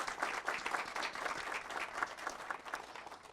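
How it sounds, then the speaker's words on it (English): Applause from the audience at a Moreno Valley city council meeting, a steady, dense crowd clapping that runs throughout at moderate volume. "So let's give them a round of applause for being here."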